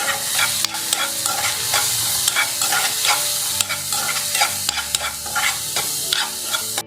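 Turmeric, red chili powder, coriander powder and salt sauté in a hot pan with a loud, continuous sizzle, and a spatula scrapes and stirs in quick, uneven strokes nearby.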